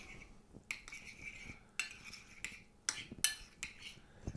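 Metal utensil scraping and clinking in a bowl while stirring chopped egg salad with sauce, a handful of separate sharp clinks and short scrapes at irregular intervals, close and fairly quiet.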